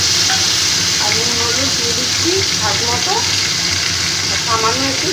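Ground poppy seed paste and green chili hit a hot pan with lightly fried potatoes, giving a loud, continuous hissing sizzle while someone talks over it.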